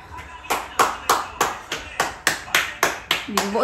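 Steady hand clapping at home while watching a Vietnam football match, about a dozen sharp claps at an even rhythm, fairly close, with faint voices in the background.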